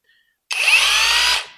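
DCA 20V brushless cordless rotary hammer drill running as its trigger is squeezed, a loud high-pitched whine that starts abruptly after a short silence, holds steady for about a second and then spins down.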